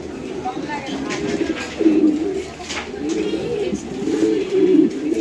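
Pair of pigeons offered for sale, cooing in low repeated rolling phrases, close and fairly loud over a busy background murmur.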